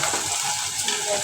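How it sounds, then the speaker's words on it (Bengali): Onion and ginger fry in a pan with a dense, close, hissing sizzle that stays steady through the brief moment. "পেঁয়াজটা ভাজতে নিলাম, দিয়ে দিলাম আদা।"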